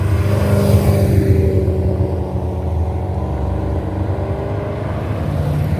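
A stream of Corvettes, C6, C7 and C8 models, rolls past in a parade with a continuous deep engine rumble and occasional swelling pass-bys, close and steady with no talking.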